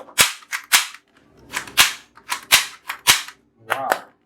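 A realistic toy AK-47 fires rubber bullets in rapid succession, eight sharp snapping cracks in an uneven rhythm, close and crisp with brief pauses between shots.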